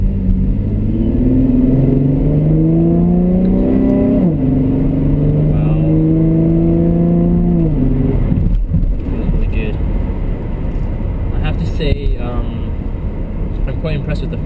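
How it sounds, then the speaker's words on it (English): A 2010 Camaro fitted with Hurst paddle shifters drops to second gear, engine note sweeping through rising revs then dropping sharply at the shift, followed by a rougher running drone inside the cabin. "So I'm gonna downshift to second."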